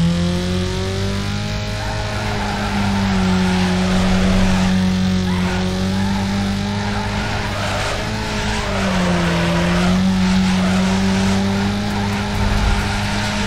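Peugeot 106 in the racing game Need for Speed Underground 2, drifting with a long, steady tire squeal over a droning engine whose pitch dips and rises as the slide goes on, loud and continuous.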